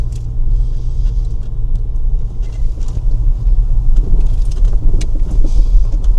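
A heavy three-ton Range Rover labours off-road up a steep forest hill in Lithuania, its engine a loud continuous low rumble with crunching and clattering from the terrain and cabin throughout.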